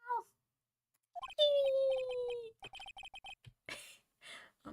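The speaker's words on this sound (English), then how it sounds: "It sounded like a cat." A cat-like sound at the end of a transmission in Phoenix Wright: Ace Attorney: a drawn-out, slowly falling wail surrounded by short game blips and clipped voice-like sounds, close and clear against silence.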